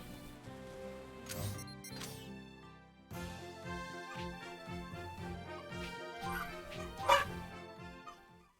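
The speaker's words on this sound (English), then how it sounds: "we can probably hear the dogs barking" Dogs bark in a video game, Dragon Ball Z Kakarot, with repeated sharp barks and yips scattered over a running musical background, fairly faint and under game audio.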